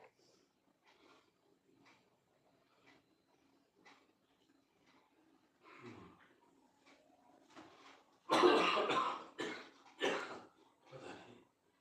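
A few loud, harsh coughs burst out close by after quieter breathing and throat sounds, coming in a short irregular cluster.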